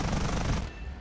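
A short, rapid burst of instant-firing 20mm aircraft cannon in a flight combat game, a dense rattling volley that stops abruptly after about half a second, leaving a faint engine drone.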